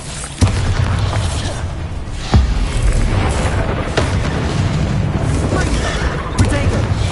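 Bombarda explosion spells in the video game Hogwarts Legacy go off as several sharp, loud booms with rumbling tails, spaced a second or two apart over a steady noisy background.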